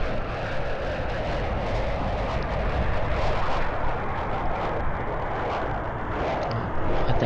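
Aircraft engines drone overhead in a SIM3D ship simulator with a CB90H combat boat near Falsterbo and Malmö, a loud, sustained roar that stays constant and close for several seconds.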